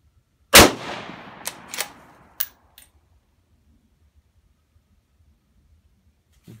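A Remington Model 7 .223 varmint rifle fires at an outdoor range: one sharp, loud shot with a decaying echo, followed by a few smaller cracks and clicks, then near silence.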